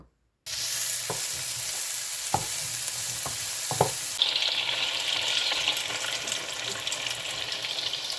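Chopped frozen vegetables and soaked peas sizzle in a home kitchen pan for fried rice, a steady close frying hiss broken by a few sharp stirring knocks.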